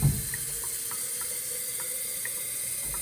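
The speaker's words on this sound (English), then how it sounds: "first thing you need to do with your jar is fill it up to about where it curves, and it needs to be cold water" Cold tap water runs into a glass jar, a steady faint splashing stream with a few small drips and clinks, close by and alone.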